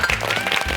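A brief burst of audience clapping for a doctor on a Korean health program about speed walking, short and moderately loud.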